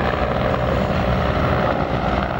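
A Mil Mi-24 Hind helicopter at an air show gives off a loud, steady roar of engine and rotor noise that runs unbroken throughout.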